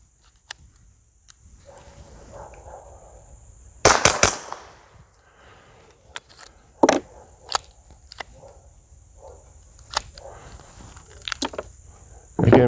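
Several quiet suppressed .22 rimfire shots from a gun fitted with a direct-thread detachable suppressor, sharp muffled cracks spaced a few seconds apart, one heavier burst early, over a faint steady outdoor hum.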